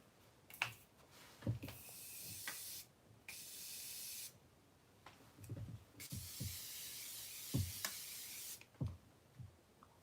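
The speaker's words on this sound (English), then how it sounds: "it just like squirted one big thing of setting spray at me" Bursts of hissing spray from a pump bottle, several long and short sprays separated by quiet gaps, close up, with faint clicks and taps between them.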